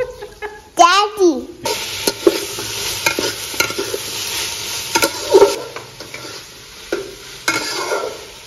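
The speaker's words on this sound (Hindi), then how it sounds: "मसाला फ्राई हो रहा है" Masala fries in a pan with a steady hiss and repeated scraping stir strokes, while a voice rises briefly near the start.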